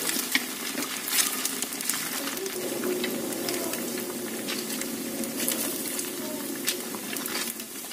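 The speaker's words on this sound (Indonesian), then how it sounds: "Ini kita goreng setelah minyaknya panas." Mpek-mpek made with rice frying in hot oil, a steady soft sizzle and bubbling with scattered faint pops and clinks, fairly quiet throughout.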